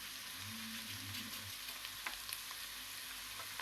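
Chopped onion and pepper frying in a pan on a stovetop, a steady close sizzle and crackle that runs without a break and has no talk over it.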